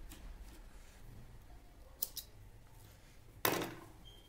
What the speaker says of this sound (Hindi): यहां से हम एक्स्ट्रा धागे को कट कर देते हैं